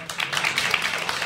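Brief burst of steady clapping from a club audience at a music and poetry evening, dense and even for just over a second.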